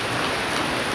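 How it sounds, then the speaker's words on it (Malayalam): Steady rain falls on a surface in an unbroken, even hiss of droplets, close and fairly loud for the whole short stretch, with no voices over it. "മഴയാണ് ഗൈസ്"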